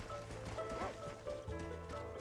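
A horse in the Red Dead Redemption game urged on at speed, short hoofbeat thuds and faint whinnying under quiet background game sound, brief and soft.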